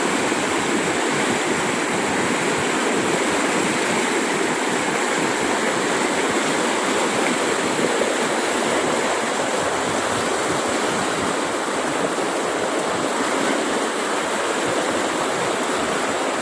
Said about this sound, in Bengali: নদীর পাড়ে বসে নদীর এই আওয়াজ শুনি।